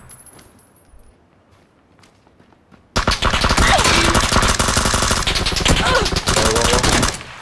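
Rapid automatic gunfire in the shooter game PUBG erupts abruptly after a quiet start, a loud dense stream of cracking shots continuing to the end.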